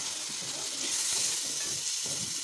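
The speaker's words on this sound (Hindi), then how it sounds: "अब हमने पहले इनको अच्छी तरह फ्राई कर लेना है, अच्छी तरह इनको भून लेंगे हम।" Half a kilo each of potatoes and peas fry in hot oil over medium heat for a pulao, giving a steady, dense sizzle with faint stirring scrapes underneath and no talk.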